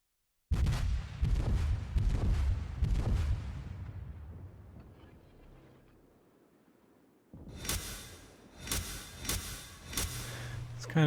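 Naval guns fire in the video game World of Warships with a US Navy destroyer in action. A run of heavy booming salvos fades into a quiet lull, then a fresh cluster of sharp reports rings out.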